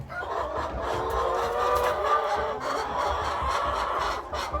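Dense clucking and crowing from a large flock of chickens inside a warm barn on a small Indiana farm during a winter snowstorm, a continuous busy chorus with no one talking.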